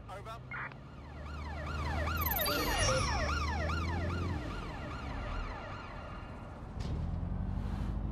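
Wailing ambulance siren from the video game Watch Dogs Legion, rising and falling in repeated sweeps over a rumbling engine bed, loud and close, with a sharp crash-like burst near the end.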